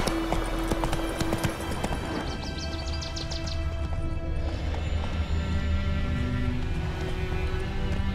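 Roach, the horse in The Witcher 3: Wild Hunt, trots with rhythmic clip-clop hoofbeats, steady and fairly close, over game ambience and music.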